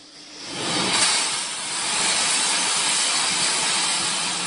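An antique engine runs with a steady, loud steam hiss at a museum of old engines in Vista, California, a broad continuous rush that swells early and then holds even throughout.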